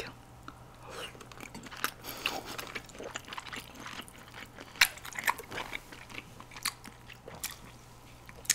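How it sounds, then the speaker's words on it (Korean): Close, wet chewing and crunchy bites of squid topping eaten with spicy Buldak fire stir-fried noodles, a rapid irregular run of mouth sounds and small crackles with no voice. "오징어 토핑 맛을 먼저 볼게요."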